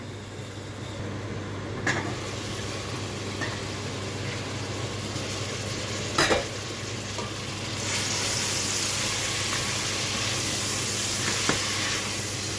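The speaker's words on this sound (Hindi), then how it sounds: "अब गोश्त को थोड़ा सा इसमें फ्राई करूँगी, इसका कलर चेंज होने तक" Mutton pieces fry over chopped onions in a pan, making a loud, continuous sizzle with a few sharp utensil clicks as the meat is stirred, and no voices.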